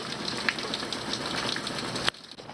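Steady rain patters on a surface for about two seconds, then abruptly drops away to near quiet.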